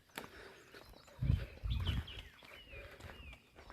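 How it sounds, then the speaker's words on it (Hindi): Birds chirp faintly in the distance along Trail Five in the Margalla Hills, Islamabad. Scattered short calls sound over a couple of heavy, close footsteps on the path. "पस मंज़र में आपको परिंदों की चहचहाने की आवाज़ें आ रही होंगी।"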